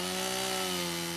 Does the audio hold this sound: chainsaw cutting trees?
yes